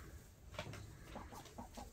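Hens clucking in a backyard coop, Easter egger hens among them, a few soft, faint clucks scattered over low steady background noise.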